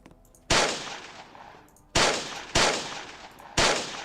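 Four loud, sharp gunshots from a weapon in the Roblox game Salvage, each with a sudden crack and a decaying rumbling tail, spaced irregularly about a second apart, with no talk over them.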